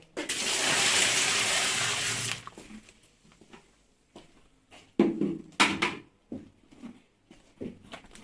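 Salted water is poured over cabbage for Bulgarian-style sauerkraut, a steady loud gush for about two seconds, followed by scattered knocks and handling noises of the container.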